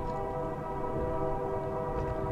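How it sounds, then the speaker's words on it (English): A train sounding its horn as it passes nearby, a sustained tonal blast over a rumbling rail background, fairly loud and steady with no talk. "Do y'all hear the train?"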